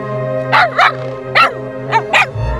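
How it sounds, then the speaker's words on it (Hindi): A dog barks in close, sharp bursts, four or five yaps in quick pairs over a steady background hum. "ऐसे देखकर क्यों भौंक रहे हो तुम?"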